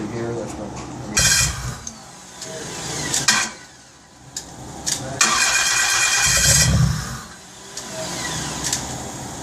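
A 1999 Dodge Stratus with a 2.4 L engine cranks and catches in two loud bursts, each settling toward a rough idle, with people talking nearby in between.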